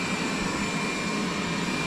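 A Xiaomi S20+ robot vacuum runs across carpet, giving a steady, close, even whirring hum with no breaks or other sounds.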